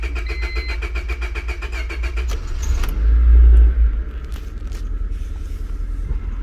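A 1996–2000 Honda Civic with a rich-running fault gives a rapid ticking crank and then catches into a deep, loud idle that surges briefly before settling into a steady rumble, with faint key jingle at the start.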